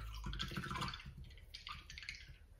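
A paintbrush is swished and rinsed in a water jar during an acrylic painting session, giving soft, close dripping and sloshing sounds in two short bursts with no talking.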